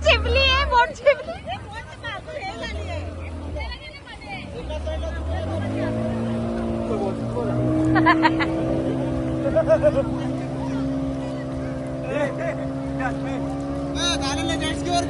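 Jet ski and boat engines droning steadily on open water, a sustained motor hum with shifting pitch, partly masked by nearby crowd chatter and voices, louder after the opening seconds.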